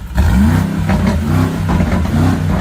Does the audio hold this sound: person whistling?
no